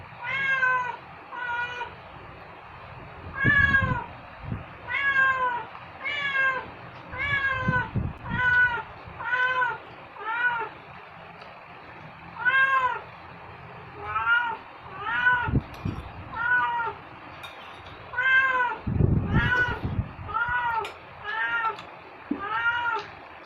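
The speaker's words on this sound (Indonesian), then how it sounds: "kucing dia tahu kalau ada ikan" A hungry cat meows repeatedly for fish at a simple home meal, a long series of close, insistent rising meows in a steady rhythm, with occasional dull thumps and low handling noises between them.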